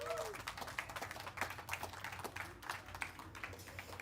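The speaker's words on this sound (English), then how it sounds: "Huge, round of applause for all the nominees." Light, scattered applause from a small crowd at a community awards event, honoring the nominees. The clapping is faint and uneven, heard at a distance throughout.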